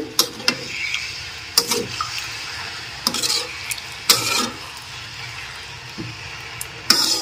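A spoon scrapes and knocks through the spice mix for a rohu fish curry with winter vegetables and bori in a pan, giving several sharp stirring strokes at irregular intervals over a soft, steady sizzle.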